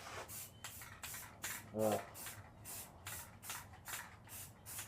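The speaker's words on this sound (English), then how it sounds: "So I can't get under it when I spray." Short hissing bursts of an aerosol spray paint can repeat in a steady rhythm, about a dozen quick sprays close to the microphone, with a brief rattle midway, coating a Nerf Strongarm blaster.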